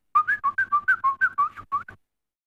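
A man whistles a signal call to his wife, a run of about ten short, bright, evenly spaced chirping notes delivered close and clear in a quiet room, imitating the call with no speech.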